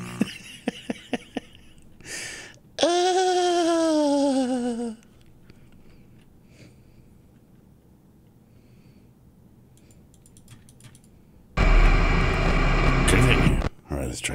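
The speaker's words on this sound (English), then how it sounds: "That's the bunny sound." Bunny animatronic sound from the Five Nights at Freddy's video game: a loud, falling, groaning tone lasting about two seconds, then a quiet stretch, then a harsh burst of noise, with faint clicks at the start.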